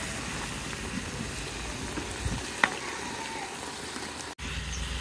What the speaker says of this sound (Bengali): মিষ্টি কুমড়াটা একদম পারফেক্টভাবে কষানো হয়ে গেছে